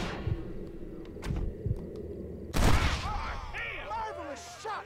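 A short volley of gunshots from the Western video game Red Dead Redemption: a few sharp cracks spread over the first seconds, then a louder blast, followed by a voice speaking.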